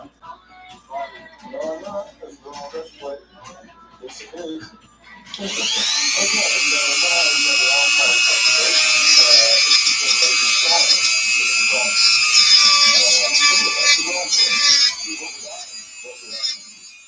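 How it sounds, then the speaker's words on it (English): On an Arrma Notorious RC car part, a small rotary grinder starts up and works a weld, giving a loud, steady high whine for about ten seconds before it stops. Someone talks before it starts and keeps talking faintly under it. "I just need to grind on that little weld."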